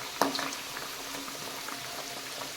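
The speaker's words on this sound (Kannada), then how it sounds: "ಅದು ಎಣ್ಣೆಯಲ್ಲಿ ಫ್ರೈ ಆಗುವಾಗ ನಿಧಾನಕ್ಕೆ ಬಿಡಲಿಕ್ಕೆ ಸ್ಟಾರ್ಟ್ ಆಗುತ್ತೆ ಚೆನ್ನಾಗಿ" Kabuli chickpea sev dough drops into hot oil with a sharp initial splash, then a soft, steady bubbling and frying hiss continues close by at moderate volume.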